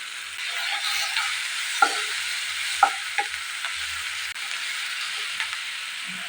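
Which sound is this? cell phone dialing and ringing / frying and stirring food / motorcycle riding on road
frying and stirring food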